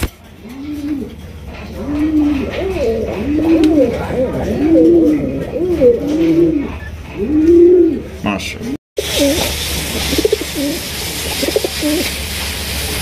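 A large male Rajgolla pigeon coos repeatedly in a cage, with close, rhythmic rolling coos in steady bursts. The sound cuts out abruptly about two-thirds through, and only quieter, scattered sounds follow.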